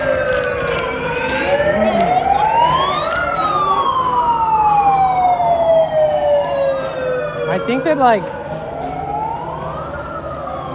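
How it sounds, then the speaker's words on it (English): Wailing sirens from speakers and megaphones on San Francisco streets rise and fall in long sweeping cycles, loud and near, with a brief voice speaking partway through. "they just have speakers and megaphones that make siren sounds"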